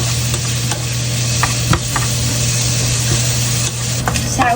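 Meat for a spaghetti dish fries in a pan and is stirred. A steady, close sizzle runs throughout, broken by scattered scrapes and clicks from the utensil.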